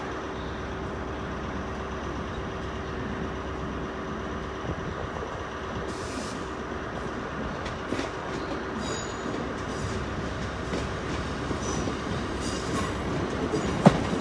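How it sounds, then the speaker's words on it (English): Great Western Railway train arriving at Exeter St Davids station, a continuous rumble of wheels and engine with faint wheel squeal and clicks, steady and moderately loud throughout, with no talking. "coming in now will be a Grattan Railway service to Paignton"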